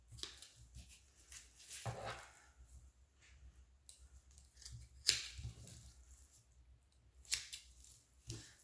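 Tupperware poultry shears snip through chicken along a thin line of fat, giving faint, close cutting crunches and a couple of sharper clicks over a quiet kitchen background.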